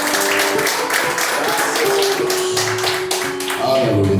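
A church congregation at an evening missions service claps in rapid, overlapping applause beneath music and a speaking voice, fairly loud and steady throughout the few seconds.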